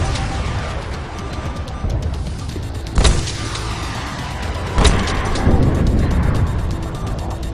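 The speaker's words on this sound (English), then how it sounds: "Multiple vehicles approaching our position." Enemy vehicles approach in the Splinter Cell: Blacklist video game: a loud, continuous engine rumble with two sharp bangs about two seconds apart and a rising roar toward the end.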